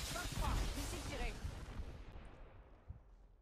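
A missile launches in the video game Apex Legends with a loud booming blast and rumble up front that fades into a long, decaying tail.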